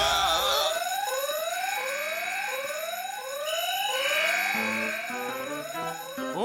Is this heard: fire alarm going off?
yes